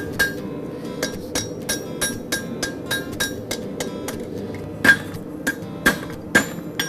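Sharp metallic hammer blows ring out as a horseshoe is shaped on an anvil, a steady rhythm of about two strikes per second, with a few harder, louder hits near the end.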